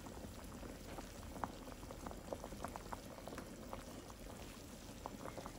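Lamb and onions boil in a pot, a steady close bubbling with dense small pops and gurgles running evenly throughout, quiet and with no talking.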